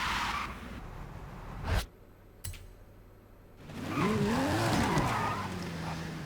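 Race car in Forza Horizon 5, starting with a noisy burst and two sharp impacts, then a revving engine with rising and falling pitch and skidding tires over a rough background.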